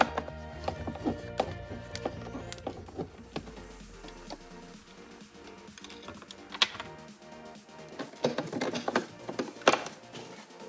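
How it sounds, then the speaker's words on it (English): The plastic top of the factory airbox on a 2021 GMC Sierra AT4 6.2L is worked loose by hand, giving a steady run of close, dry clicks, taps and rattles with a few sharper knocks and no talking. "Now we'll take the top portion of the factory airbox off."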